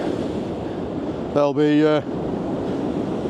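Storm-churned waves at high tide along the Blackpool promenade near Central Pier surge in a constant heavy roar mixed with wind buffeting the microphone, and someone speaks briefly over it.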